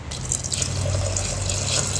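Water pours steadily into a simmering curry for a home-style panvadyachi bhaji, a close, continuous gushing splash that holds at an even level from start to finish.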